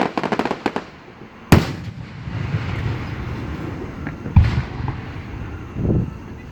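Fireworks at a 2019 display in Union City, Tennessee crack and boom across the sky, a rapid crackling burst first, then single sharp explosions with rumbling echoes between, at moderate distance.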